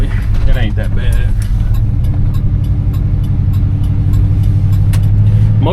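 A 1971 Oldsmobile Cutlass engine runs while driving, a steady low rumble heard from inside the car, loud and continuous with someone talking over it.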